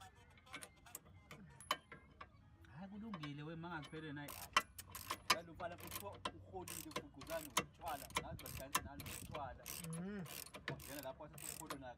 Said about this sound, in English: You use two spanners here so you can hold it to stop the bolt from rotating continuously.